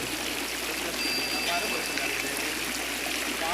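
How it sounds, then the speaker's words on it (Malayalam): A homemade aquarium water filter driven by an air pump sprays water at speed, giving a steady close splashing and trickling wash with a faint electrical hum underneath. "നല്ല സ്പീഡിൽ വെള്ളം ഇങ്ങനെ സ്പ്രേ ചെയ്യുന്നത് കൊണ്ട്"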